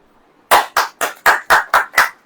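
Seven sharp, loud claps in unison from a church congregation during a sermon, evenly spaced about a quarter second apart after a brief quiet start.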